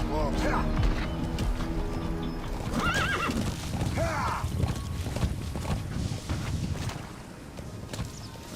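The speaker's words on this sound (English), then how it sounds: "Use your horse." A horse in Metal Gear Solid 5: The Phantom Pain whinnies several times while its hooves clop steadily, set against busy in-game background sounds.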